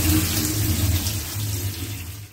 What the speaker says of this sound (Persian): باقلاها رو قشنگ با آب میشوریم تا گرد و غبارش بره